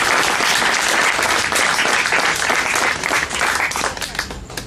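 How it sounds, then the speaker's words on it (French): A theatre audience applauds the troupe Act7 after a stage performance, loud close clapping sustained throughout with slight dips in intensity near the end. "Applaudissez pour Act7."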